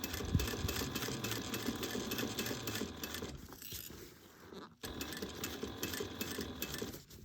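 A sewing machine stitches a tote bag with a soft, fast whir that runs for about three seconds, fades briefly, then resumes at a steady pace.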